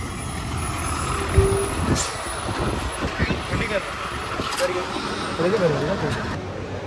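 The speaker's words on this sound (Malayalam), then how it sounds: "ഇതാ അപ്പം നമ്മുടെ ബസ് എത്തിയിരിക്കുകയാണ്." A bus pulling in on a road trip from Nilambur to Alleppey, loud and close, with a heavy engine rumble, a hiss of air brakes and a brief beeping tone, while people talk over it.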